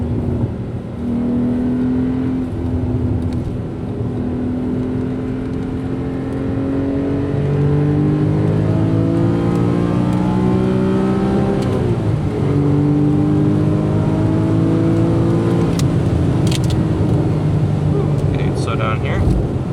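Porsche 981 Boxster S with a six-speed manual and a Cobb tune raising the redline to 8,000 rpm, heard from inside as the engine revs and climbs through the gears, rising pitch sweeps with a shift, loud and sustained on a snowy road.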